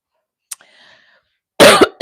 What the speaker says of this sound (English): Oh, I don't know why I'm coughing.